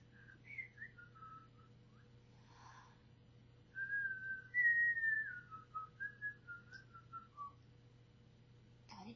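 Someone whistles a wavering melody in short phrases, then a longer run of notes, fairly close, over a low steady hum.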